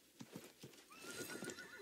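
A horse in a video game gives a few soft clip-clop hoof sounds and then a long whinny, fairly faint, with no talk.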